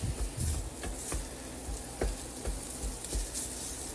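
Food sizzles and fries in a pan while a utensil chops and breaks it up, making a string of sharp, close knocks and scrapes over a soft, continuous hiss.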